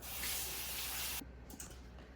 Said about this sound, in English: Now I go wash my hands.